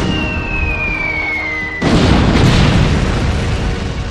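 Artillery gun firing in a battle simulation: a descending whistle of an incoming shell gives way to a loud, sustained booming blast and rumble.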